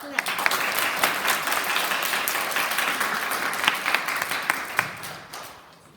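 An audience at a school celebratory assembly applauds, with dense, steady clapping and a few sharper individual claps standing out, tapering slightly toward the end.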